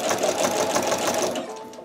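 A sewing machine runs steadily while stitching a jelly roll rug made from fabric strips, set to a wider stitch width, with a continuous fast whir and needle chatter at close range and no talking.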